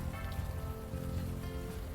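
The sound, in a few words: rain falling in the video game Unavowed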